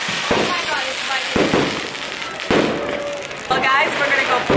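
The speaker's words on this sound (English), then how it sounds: "Fireworks." New Year's Eve fireworks go off in Ecuador as several loud, sharp bursts spaced about a second apart, each followed by crackling, over a constant crowd-like roar.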